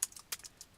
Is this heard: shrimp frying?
no